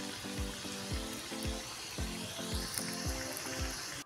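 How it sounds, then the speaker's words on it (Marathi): Momos deep-fry in oil with a constant soft hiss and crackle, heard faintly under steady rhythmic background music. "बघा अशा प्रकारे आपण सर्व मोमोज तळून घेऊया."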